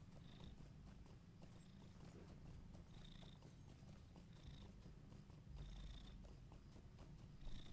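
A house cat purring continuously close to a microphone at a computer desk, a soft steady rumble with faint repeated higher tones and no talking.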